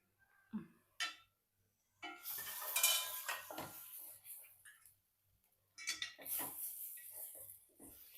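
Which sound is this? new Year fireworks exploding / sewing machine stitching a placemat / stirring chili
stirring chili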